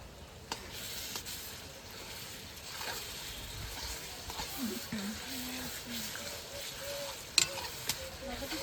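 Onions frying in a pot with ginger garlic paste for mutton biryani, a steady sizzle under scraping stirs of a spatula, with faint voices in the background.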